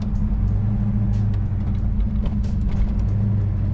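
A 1970 Chevelle with a big-block engine rumbles loudly with a steady, deep drone from inside the car, the pitch changing little and no voices heard.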